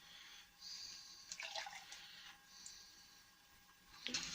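Pre-cat lacquer is poured into the cup of an inexpensive A&I spray gun. The thin liquid pours in a steady, fairly faint trickle that rises into a few splashier bursts and continues with no talking.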